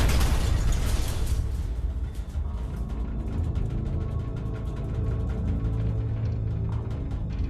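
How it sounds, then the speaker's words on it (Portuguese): Depth charge bursting near a submarine off Malta in May 1941, a sustained deep rumbling roar with crackling, creaking mechanical texture, loud throughout with no voices. "Mais uma bomba de profundidade explode."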